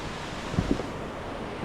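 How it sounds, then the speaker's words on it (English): Gushing river water flows below a hillside road with serious land slippage, heard as a steady, broad rushing wash. "You can hear the sound of the gushing water."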